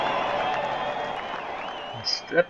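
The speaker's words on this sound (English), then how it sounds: "As the Fenway faithful rise to their feet and cheer." Fenway Park crowd in the OOTP18 baseball video game, rising to their feet and cheering: a broad, steady wash of crowd noise that fades slightly, with a few sharper bursts near the end.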